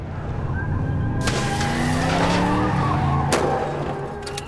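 A car's tires squeal and skid through a turn, with a steady engine drone and a couple of sharp bangs, loud and close.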